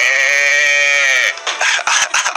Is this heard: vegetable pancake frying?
no